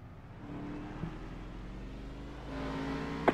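A race car in iRacing before the Daytona 500, heavily damaged, engine droning steadily at moderate volume then rising in pitch as it accelerates, a small click at the end.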